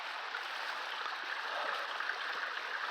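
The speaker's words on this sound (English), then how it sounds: "Little waterfall action here, people" A small trickling waterfall on a rainy hike, a steady hissing rush of falling water, soft and even with no talk over it.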